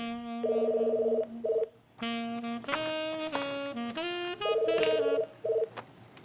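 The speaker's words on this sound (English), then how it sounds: "But then the phone rang." A telephone rings with repeated bursts of a steady electronic tone, pausing between rings, over a musical background with no voices.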